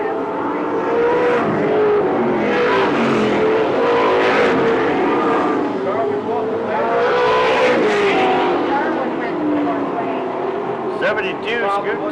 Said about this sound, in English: we got the X machine of Jason Shear sitting over there in turn 2, bringing out a caution flag in our 4th late model heat